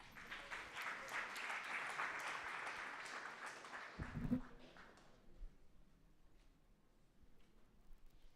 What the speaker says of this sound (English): make some beautiful noise and a round of applause for Joy Mwangi